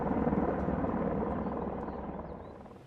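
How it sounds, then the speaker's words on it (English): Helicopter carrying a long line for slinging lumber into a regional park site, its steady rotor thrum loud and close at first, then easing slightly as it moves off. "we use a helicopter with a long line attached"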